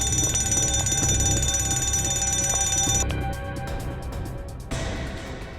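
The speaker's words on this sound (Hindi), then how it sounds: "अलार्म बंद करो जल्दी" A loud electronic alarm rings steadily in a tense crime-drama room with a glass display box. It gives continuous, insistent beeping tones that shift pattern partway through, then settles into a softer repeating ring.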